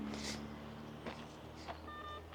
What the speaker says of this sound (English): It does that beep beep sound